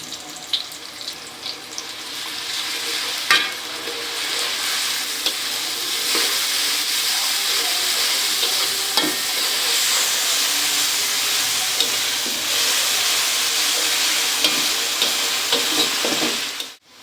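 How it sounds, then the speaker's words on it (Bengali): Onion and garlic paste, with chopped onion, frying in oil in a pan for a Bengali chickpea dal dish: a loud, steady sizzle runs throughout with occasional scraping stir clicks, and no talking. "আমার পেঁয়াজ রসুন ভাজা হয়ে গেছে"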